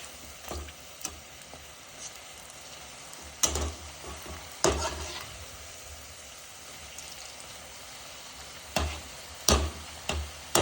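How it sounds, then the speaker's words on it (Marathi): Gram-flour battered green chillies frying in hot oil for mirchi bhaji, a steady low sizzle broken by several sharp clattering stirs and turns, close by with no voices. "आता आपण सगळ्या मिरच्या तेलात टाकू चांगल्या"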